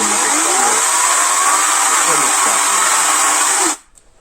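Narva NCS-21/4 PRO cordless brushless chainsaw revving at its high-speed setting: a loud, steady, high-pitched electric whine close by, holding for nearly four seconds before cutting off abruptly.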